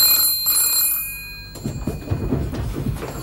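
An old telephone bell rings in a series of bright, shrill trilling bursts, then cuts off, giving way to muffled shuffling and room movement.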